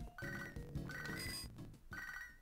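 A telephone ringtone rings repeatedly in the background during Pokemon HeartGold gameplay, its bursts recurring in a steady pattern over the game's bicycle music, with no talk.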